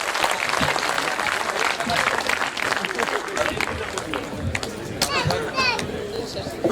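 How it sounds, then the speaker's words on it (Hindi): An audience at a Hindi poetry gathering in Khariar Road applauds the poet Surendra Dubey with steady, dense clapping that runs throughout, close and lively, while voices talk and call over it. "आपकी तालियां, एक एक श्रोता की हाथ खड़े करके तालियां"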